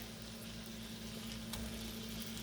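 Burgers sizzle steadily in a preheated enameled cast iron pan, a continuous close frying hiss with a low hum beneath and no talk.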